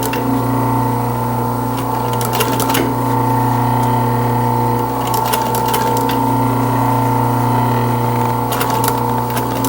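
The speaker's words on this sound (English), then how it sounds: "I'm going to start in the middle and sew both directions." An industrial sewing machine stitches motorcycle seat cover panels, giving a loud, steady mechanical hum with a few brief rattling bursts throughout.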